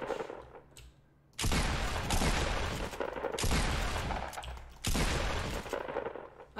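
Pump shotgun blasts in a video game, three loud booming shots spaced roughly a second and a half apart, each trailing into a decaying rumble with quieter reload clatter between them.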